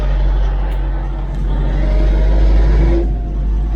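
A heavy Ursus tractor engine drones steadily throughout, its low rumble swelling as the throttle is opened, loud and close with no talking over it.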